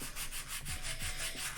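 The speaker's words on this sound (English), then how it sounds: "sanding noises, I apologize if it's too loud." Rhythmic sanding of small wooden pieces for miniature dresser furniture, steady back-and-forth rasping strokes roughly every third of a second, close by but fairly quiet, with no talking.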